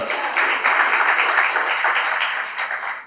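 A church conference audience applauding during a sermon: dense, sustained clapping from many hands, loud and fairly even for about three seconds before tapering off at the end.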